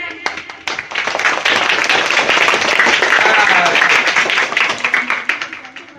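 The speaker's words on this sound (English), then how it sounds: "Clap for him." A classroom claps for a student in a spoken English class, a dense burst of many hands that holds steady for several seconds before thinning out near the end.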